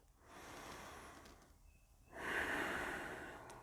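A slow, deep breath during a yoga twist: a long soft inhale, a short pause, then a fuller, louder exhale, close and alone.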